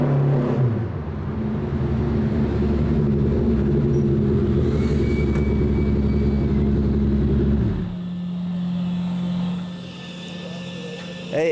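A formula racing car drives by with a loud, sustained engine roar that drops away abruptly to a quieter idle-like hum, followed by faint background noise.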